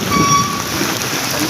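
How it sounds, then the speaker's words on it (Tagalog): A steady wash of heavy flooding rain with a faint high tone over it, and no voices. "Grabe lakas ang ulan."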